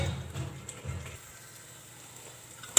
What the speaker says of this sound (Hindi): तब तक हम ये ग्रेवी भूनते चले जाएंगे।